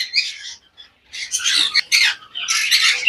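Caged conure parrots, pineapple and yellow-sided conures, give harsh, piercing squawks in several bursts, close and loud, with brief gaps between calls.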